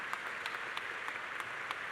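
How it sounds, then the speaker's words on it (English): Distant, faint applause from a spring commencement crowd, a steady wash of clapping with a few sharper individual claps standing out. "That deserves a round of applause."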